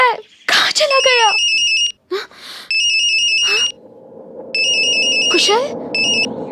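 A telephone ringtone rings in repeated electronic bursts during an unanswered call, loud and close, with short pauses between rings and voices speaking in between.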